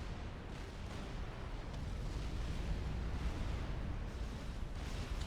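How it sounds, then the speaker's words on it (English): Artillery fire and explosions in the strategy game Supreme Commander Forged Alliance rumble in a dense, continuous barrage of muffled booms at moderate volume, with no talking. "The artillery wasn't enough to stop the Fat Boys"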